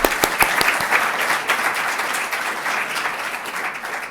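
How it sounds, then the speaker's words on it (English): Audience applause for a panel at a business conference on Latin America, steady and fairly loud throughout, with a few sharp individual claps standing out near the start. "let's give them another round of applause."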